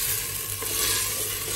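Mutton kunna masala frying and being stirred in a pan, a steady close sizzle with soft scraping running continuously for a moment with no voices.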